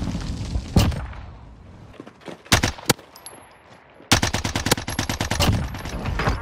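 Battlefield gunfire from a C58 rifle: a few scattered single shots, then a fast, loud automatic burst of evenly spaced rounds, close and sharp.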